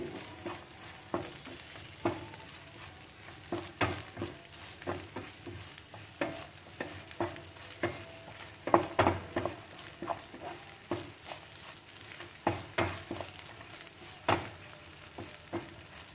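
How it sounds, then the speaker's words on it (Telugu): Kasara gourds frying in a pan, a steady sizzle broken by frequent sharp scraping and tapping strokes as the pieces are stirred, close and moderately loud, with no talking. "కెమెరాలో మీకు వేగినట్టు కనిపించట్లేదేమో బాగా వేగింది"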